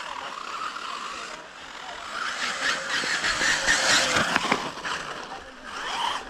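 A radio-controlled model buggy drives at a model car club in summer, its high-pitched electric whine rising and falling steadily for several seconds, moderately near with faint background noise.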